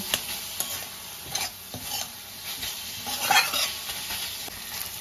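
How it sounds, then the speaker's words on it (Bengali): A spoon stirs chicken filling with pepper powder, chili flakes and chopped coriander in a pan, giving repeated close scraping strokes over a soft sizzle, with light metallic clinks throughout. "এবার এগুলো সব ভালো করে মিক্স করে নেব।"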